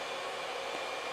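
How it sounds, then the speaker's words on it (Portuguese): A hair dryer blows steadily on a man's hair styled with wax pomade during a barbershop haircut, a close, constant broadband roar with no talk. "à medida que o secador bate na cera, né, na pomada"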